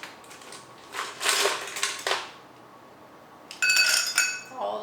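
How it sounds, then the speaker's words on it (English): Ice cubes tumble into a glass over muddled mint for a mint mojito, two bursts of close, bright clattering and clinking separated by a quiet pause. "you are going to fill your glass with ice"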